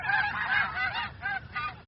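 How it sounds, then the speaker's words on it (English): A goose honks repeatedly in a quick series of nasal, trumpeting calls, fairly faint and steady, with no talking. "Goose."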